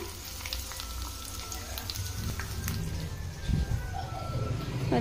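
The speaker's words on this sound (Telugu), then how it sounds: "ఇవి అయితే బాగా ఫ్రై చేసుకుందాం" Vegetables sizzle and fry steadily in a pan in a home kitchen, a continuous hiss with occasional stirring scrapes, while a person talks over the cooking.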